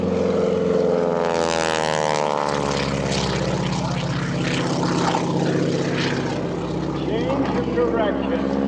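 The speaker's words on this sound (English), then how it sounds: "moving that big plane around, bringing it back into the airshow line." A large propeller plane roars loudly and steadily overhead at an airshow, the engine drone sweeping in pitch as it passes.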